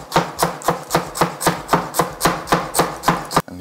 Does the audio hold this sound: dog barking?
no